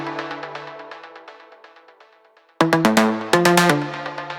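Synth melody with per-note velocity variation: a soft, sustained legato line fades, a short gap follows, then bright, loud plucked notes return at varying strengths, a few accented louder than others.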